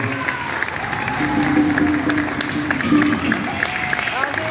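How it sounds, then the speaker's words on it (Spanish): Audience applause at a funk band's live show, a loud steady wash of clapping with crowd noise and some voices or music tones running through it. "Fuerte aplauso para Andy que nos sigue por todos lados."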